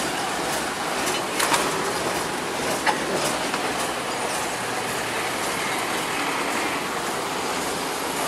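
A small lori rail trolley rolls across a road level crossing in Indonesia, wheels clicking and faintly squealing at moderate distance amid steady background hiss.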